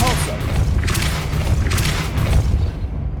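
The Depulso spell cast in the Hogwarts Legacy video game: a short, deep booming blast with rumbling thumps and mechanical clatter that fades quickly.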